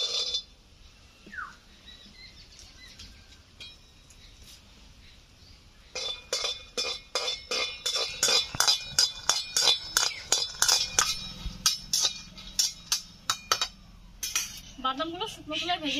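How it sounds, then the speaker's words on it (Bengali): Raw nuts dry-roasted in a hot kadai, rattling and clinking against the metal in quick repeated bursts as they are stirred. A voice talks at the start, and the rattling grows busier and louder in the second half. "এই কাঁচা বাদামগুলো আমি শুকনো খোলায় ভেজে নেব"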